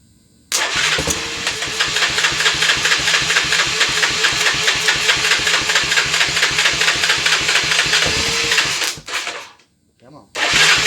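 A 1986 Honda TRX350 ATV engine, with its cylinder jumped and a fuel pump rigged up, cranks and catches. It then runs loud and close at a rapid, steady thump before cutting out abruptly near the end.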